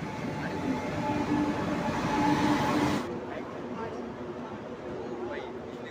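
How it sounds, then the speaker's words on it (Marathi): A passenger train rolls into a station with a broad, steady rumble and rail noise. Voices and chatter from the platform crowd run under it, and the high hiss drops away halfway through. "आम्ही ट्रेन मध्ये बसलेलो आहे"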